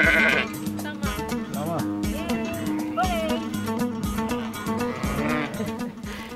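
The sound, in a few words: sheep bleating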